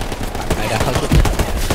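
Rapid bursts of gunfire in the World War II shooter Hell Let Loose, loud and close, with dense overlapping automatic shots and heavy low thumps through the whole stretch.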